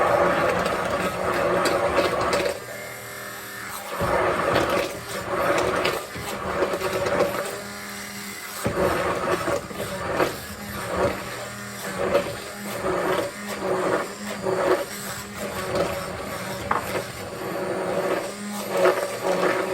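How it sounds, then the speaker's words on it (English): Electric blender whirring through spaghetti bolognese ingredients in repeated loud bursts, its motor cutting out briefly between pulses and restarting with a grinding rumble. "So I'm gonna use my blender here"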